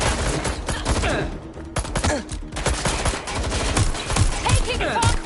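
Gunfire in the Watch Dogs: Legion video game, dense rapid bursts of automatic shots and crackling fusillade running almost continuously, loud and close, with a voice speaking over parts of it.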